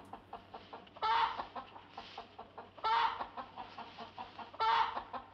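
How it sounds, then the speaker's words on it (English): A chicken clucks repeatedly in a 1949 film, with short rhythmic clucks punctuated by three louder, drawn-out squawks at regular intervals, fairly close and with no talking. "Got a whole ass chicken in there with you"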